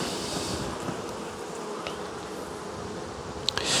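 Honeybees in a colony built from a captured swarm, moved into a box of foundation, fill the air with a dense, steady buzz close by, with a few sharper passes of individual bees near the end.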